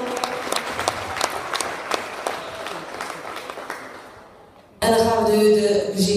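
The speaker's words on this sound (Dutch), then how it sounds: "en uw applaus voor deze kampioen in de klasse L" Audience clapping for a newly crowned class L riding champion at an equestrian award ceremony, a steady spread of claps from a crowd that fades, then gives way to a louder burst of different sound near the end.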